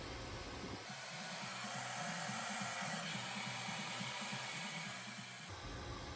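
A hair dryer blows steadily through hair and a round brush, a loud constant whooshing roar that starts and stops abruptly, with no one speaking.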